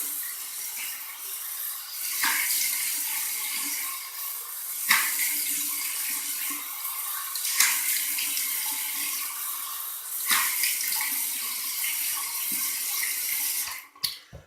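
Cold tap water runs continuously with a broad hiss, broken by periodic splashes, then cuts off abruptly near the end with a couple of clunks.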